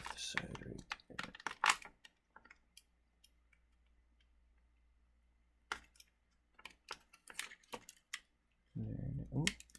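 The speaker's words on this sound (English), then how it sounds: "Get this tape off the side. Get the tape off the side right there." Tape peeled off the side of a toy action figure box, with close crackling rips and rustling cardboard in short bursts, broken by quiet pauses and a few plastic clicks.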